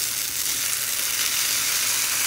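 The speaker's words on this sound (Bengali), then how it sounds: "ব্রোকলিগুলো একদম ছোট্ট ছোট্ট করে বানিয়ে নিয়েছি। এবার তাওয়ার মধ্যে দিয়ে দিচ্ছি।" Finely chopped broccoli sizzles steadily on an old tawa pan, a dense, even hiss that stays close and constant throughout with no voices.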